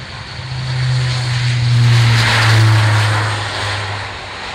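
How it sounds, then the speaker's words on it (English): An Airbus Military A400M Atlas turboprop transport roars loudly overhead, its deep propeller drone swelling and fading as it passes close by. "This is the Airbus military A400M Atlas."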